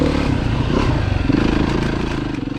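A four-stroke dirt bike revs hard while climbing a double log obstacle, its close engine snarling loudly with a throbbing, uneven pulse and some clatter, trailing off slightly at the end.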